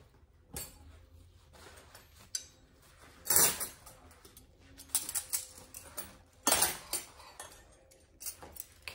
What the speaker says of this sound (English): I'm going to use this cutlery.